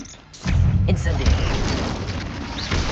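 An Incendio fire spell blast in the video game Hogwarts Legacy: a sudden loud whooshing burst after a quiet moment, followed by a sustained roaring, crackling rumble that slowly eases.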